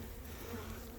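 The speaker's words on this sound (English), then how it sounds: "There's a few bees here checking me out" Honey bees buzz around an opened hive during winter preparation, a steady close drone filling the short moment without pause.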